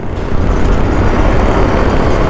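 Trucks and cars rushing along a highway heard from inside a moving vehicle, a loud, steady broadband road roar that holds constant throughout with no talking.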